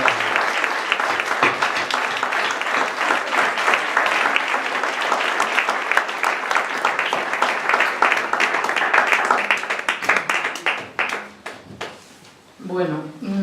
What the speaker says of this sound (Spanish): Pido un fuerte aplauso para todos ellos